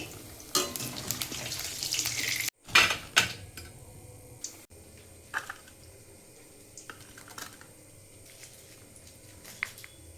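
Besan-coated pav fritters frying in hot oil in a kadai: a soft sizzle under scattered clicks and light utensil taps, close and quiet, with an irregular rhythm of small knocks.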